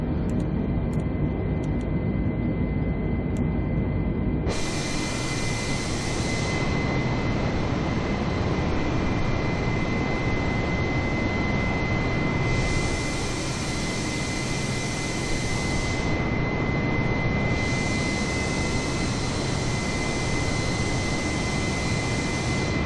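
Airbus A320neo jet engines roaring steadily in the climb after takeoff from La Palma, a loud continuous broadband drone that jumps in level early on, with no talking.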